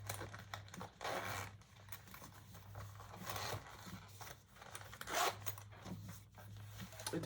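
A zipper on a purple leather waist pack is worked open, giving faint, quiet rasping bursts in irregular short strokes over a low steady hum.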